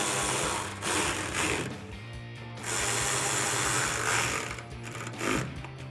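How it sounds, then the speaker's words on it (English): A hand ratchet reinstalls screws on a 2019-2021 Chevrolet Silverado 1500 pocket fender flare, giving close, rapid clicking in a few uneven bursts. "And I can reinstall these 2 screws in the back here"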